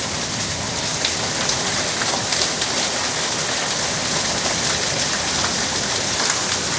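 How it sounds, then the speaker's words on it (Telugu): Heavy rain pours steadily onto indoor plants and the ground in a sudden hot-summer shower in Rajahmundry, a dense, even hiss of drops with no letup throughout. "ఇండోర్ ప్లాంట్స్ మీద కూడా అండి వర్షం జల్లు పడుతుంది"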